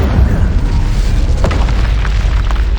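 Incendio fire spell cast in Hogwarts Legacy (2023): a loud, sustained roaring whoosh of flame with a heavy low rumble and crackling bursts running steadily throughout.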